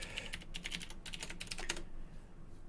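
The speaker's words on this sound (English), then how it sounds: "just going to type in password here" Quick bursts of keystrokes on a computer keyboard as a password is typed in a Linux terminal, a brief run of close, crisp clicks that trails off into quiet room noise.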